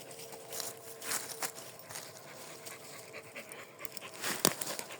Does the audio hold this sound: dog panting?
yes